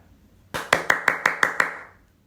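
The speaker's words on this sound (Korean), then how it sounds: "팬분들께 존경을 담아 박수를 보내고 싶습니다" Seven sharp hand claps in a steady, slightly quickening rhythm, close and loud, with a short ringing decay after the last.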